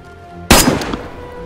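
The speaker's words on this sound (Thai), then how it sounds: "รีบร้อนยิงไปหน่อยว่ะ" A single sharp, loud gunshot from a firearm in the game DayZ cracks out of a quiet background, followed by a short decaying echo.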